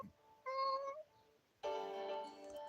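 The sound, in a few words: kitten meowing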